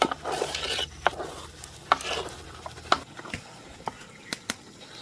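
Thick Christmas dodol is stirred in a pan, with dense, irregular scraping and sloshing strokes up close, then a few sharp, separate knocks of the spoon against the pan toward the end.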